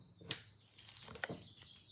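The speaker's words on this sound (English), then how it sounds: "Y'all hear the birds?" A few short, faint bird chirps scattered over a quiet background, with brief bright tweets spaced irregularly.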